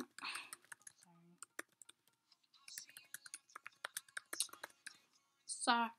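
Fingers type on a computer keyboard in quick, irregular bursts of close, crisp clicks, with soft whispered speech in between.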